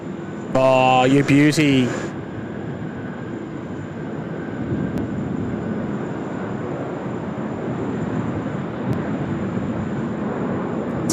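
Jetstar airliner arriving at Sydney Airport from Ho Chi Minh City, a steady distant jet roar and rumble building across the scene, preceded by a short burst of unrelated tonal sound and a brief spoken remark.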